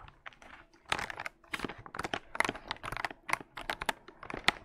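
Keyboard fitted with Akko Cream V3 Blue tactile switches being typed on up close, a quick irregular patter of crisp clacks and taps with short pauses between bursts.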